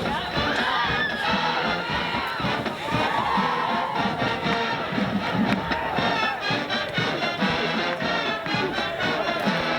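Band music and a large crowd of football fans whoop and cheer across the stadium at a Kiski game at Highlands, a dense, steady roar of voices and horns at moderate distance.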